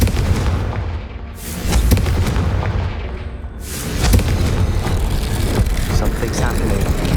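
A Confringo blast spell exploding in the video game Hogwarts Legacy, heard as loud booming blasts over a dense, rumbling battle soundscape, with a big surge around the midpoint and ongoing crashes after it.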